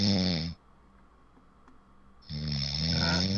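A person snores loudly with a harsh, rasping inhale that stops abruptly. A quiet pause follows before the next snore starts up.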